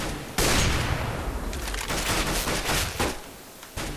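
Rapid automatic gunfire in Counter-Strike: Global Offensive, loud and close, firing in repeated bursts with brief pauses between volleys.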